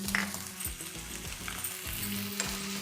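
Green chillies frying in a tempering of chana dal, urad dal, mustard and cumin seeds for rava idli, a steady close sizzle with intermittent pops and spatters over quieter background noise.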